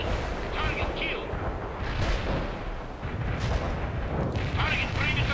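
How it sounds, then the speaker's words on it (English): Deep booms and rumbling artillery fire roll through a noisy battlefield in the real-time strategy game World in Conflict, with a missile launch among the blasts, dense and continuous under shouted voices. "Launch the missile now! Fire the missile!"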